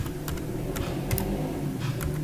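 Keys clicking on a computer keyboard as the word Mendeley is typed into Google Chrome, a quick run of close, crisp taps with short gaps between them.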